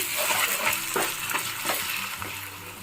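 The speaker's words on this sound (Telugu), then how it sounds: "దీన్ని కూడా ఇప్పుడు పచ్చి స్మెల్ పోయేంత వరకు వేయించుకుంటాను" Sliced onions and ginger-garlic paste fry in a pan for a crab curry, a continuous close sizzle broken by several soft scraping stirs.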